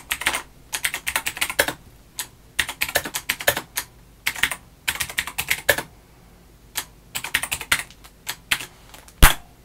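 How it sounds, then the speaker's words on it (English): Computer keyboard typing comes in quick bursts of close, crisp key clicks separated by short pauses, ending with one heavy thump as the keys are bashed. "Just have to bash the keyboard a bit."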